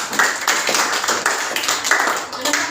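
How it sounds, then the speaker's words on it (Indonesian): A short burst of clapping from a small group, hands striking in quick uneven rhythm, fairly close with a slight echo. "berikan tepuk tangan untuk si Eniwati."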